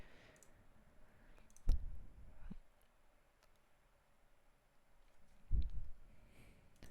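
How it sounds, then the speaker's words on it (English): Two separate computer mouse clicks, each a sharp close tap followed by a short softer rattle, spaced about four seconds apart against quiet background hiss. "So that was the first click, that's the second click"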